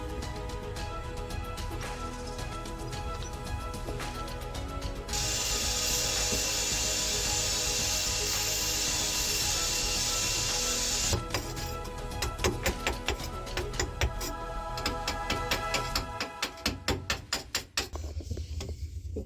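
A power drill cutting a hole in the hull of a narrowboat, a loud continuous grinding whine that rises into a harsher screech midway, then breaks into juddering, stuttering bursts as the bit bites.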